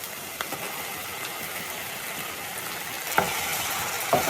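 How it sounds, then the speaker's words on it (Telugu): Onions frying in a pan as tomato puree is added for an egg biryani, giving a steady broadband sizzle with a few sharp clinks of a utensil near the end, close and moderately loud, with no talking. "సో ఆనియన్స్ అయితే ఫ్రై అయిపోతున్నాయి. సో మనం ఫస్ట్ ప్రిపేర్ చేసుకున్న టమాటో ప్యూరీ వేస్తున్నాను."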